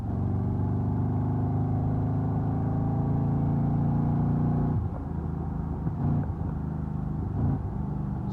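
An LS-swapped Ford Fox Body pulls hard with a loud, steady engine roar, then the note drops and breaks up around the shift into a lower, uneven rumble.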